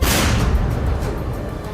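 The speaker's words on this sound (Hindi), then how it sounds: "एक जोरदार धमाका करके उड़ा दिया।" A loud, deep explosion booms as a tunnel in Gaza is blown up, then rumbles and decays into a long roaring wash of debris and noise.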